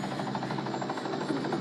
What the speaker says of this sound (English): Helicopter coming this way.